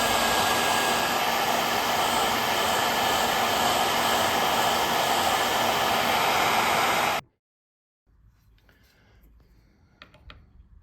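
A cheap hair dryer blows steadily for about seven seconds, a loud close whooshing hiss aimed at the floor plate of a Mauser M48 rifle, then cuts off abruptly, leaving quiet handling noises.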